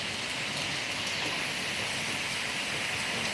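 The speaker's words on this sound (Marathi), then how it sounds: "जोरदार मुसळधार असा पावसाला सुरुवात झालेली आहे" A heavy downpour of rain pours in a dense, steady roar, loud and unbroken throughout, with no voices.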